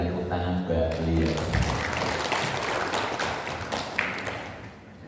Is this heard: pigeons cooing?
no